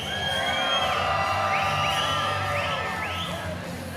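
A large arena crowd at an Island Fights event in Biloxi cheers and whoops loudly and continuously, with individual shouts and whistles rising above the roar.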